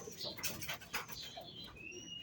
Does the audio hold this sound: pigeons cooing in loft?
yes